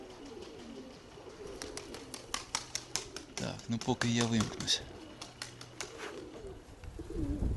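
Pigeons coo softly in the background while someone speaks close by, with a few brief throaty coos rising amid scattered clicks and rustling.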